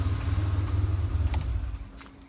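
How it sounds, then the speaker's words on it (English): A 1988 Ford Ranger pickup's engine idles with a steady low rumble, then is switched off and winds down to near silence, with a couple of faint clicks afterward. "let's cut the motor and see how much smoke we got"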